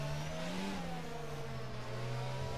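F1 22 race car engine revving at the Miami circuit in a video game, a steady high-pitched engine whine with shifting pitch that runs loudly and continuously with no talk.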